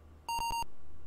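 A retro electronic alarm-trap beep from Wizardry: Proving Grounds of the Mad Overlord on the Apple II, one short bright tone with a pulsing texture, loud and alone over faint background hiss.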